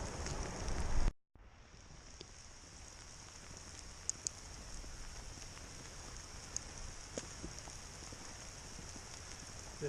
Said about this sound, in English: It's like raining ice right now.